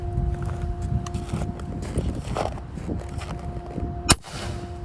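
A Macavity Arms MA2 .30 caliber air rifle fires a 45-grain AEA pellet in a single sharp, close shot near the end, over a steady background hum.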